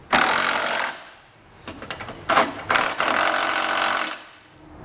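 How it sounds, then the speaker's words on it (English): An impact-style socket tool rattles in loud bursts while tightening the bolts of a Curt trailer hitch receiver on a 2021 Honda CR-V, with short pauses between runs. "come back with 11/16 size socket and snug everything down"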